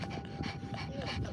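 A soggy dog just out of the water pants steadily and fairly close, with quick rhythmic breaths against a noisy background.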